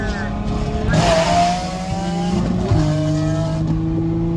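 A straight-piped V12 exotic car on a Texas exotics rally accelerates hard, its loud engine tone rising steadily through two pulls with a brief shift between, close and continuous, with people talking over it.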